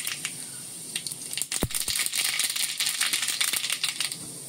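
Mustard seeds added to hot oil for tempering, a sharp burst followed by rapid, dense crackling and popping that stays fairly loud and close for a few seconds.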